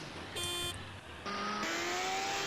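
A car engine in the DayZ video game hums and shifts pitch in tonal steps, steady and fairly close, with the whine rising slightly as it runs.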